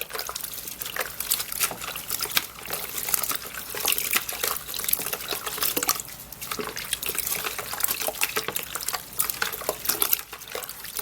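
Freshly picked leaves are washed under running water for tea, with a steady splashing trickle and irregular drips and rinsing sounds throughout, close by and without speech.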